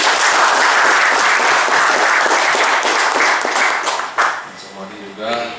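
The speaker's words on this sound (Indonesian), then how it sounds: "Tepuk tangan dulu." Dense applause from an audience at a police chief's address and send-off for an under-15 football team, loud and steady, then tapering off as a voice begins speaking at the end.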